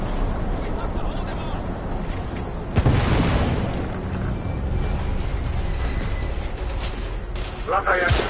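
Explosion aboard a ship in the video game The Order 1886, a deep boom hitting partway through amid rumbling noise, with voices talking around it.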